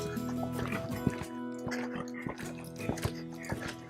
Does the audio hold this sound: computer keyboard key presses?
no